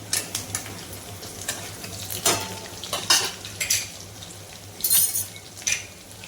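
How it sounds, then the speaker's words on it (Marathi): Crushed garlic and finely chopped green chillies sautéing in hot oil for a dill and moth-bean bhaji, with a soft steady sizzle broken by repeated scrapes and clinks of a spoon stirring against the pan. "त्यामध्ये आपल्याला ठेचलेला लसूण आणि बारीक चिरून मिरची टाकायची आहे थोडं आपल्याला ते परतून घ्यायचं"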